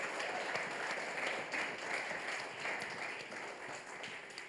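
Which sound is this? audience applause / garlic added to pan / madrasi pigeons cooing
audience applause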